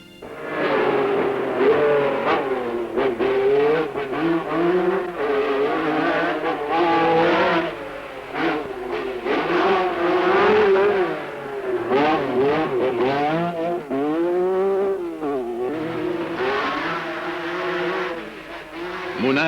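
Lancia Stratos rally cars race in the Monte Carlo Rally, engines revving hard and repeatedly through rapid gear changes, with rising and falling snarls, occasional tire squeal and cars sweeping past close by.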